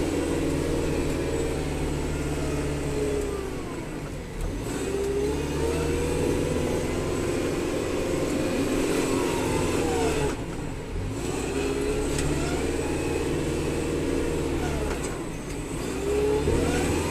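Kubota 5740 tractor engine running steadily after a major snowstorm, a loud continuous mid-pitched drone with slight rises and dips in revs throughout, no talking.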